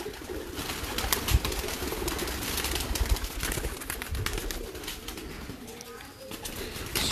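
Breeder pigeons coo softly in a loft, their low calls under occasional clicks, bumps and background chatter of people nearby.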